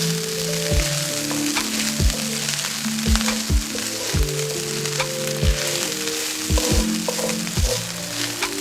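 Ginger paste sautéing in oil in a pan, a steady close sizzle with scattered pops and low thuds of a utensil knocking the pan, continuous with no talk.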